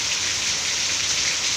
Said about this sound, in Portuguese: Olha que chuva grossa.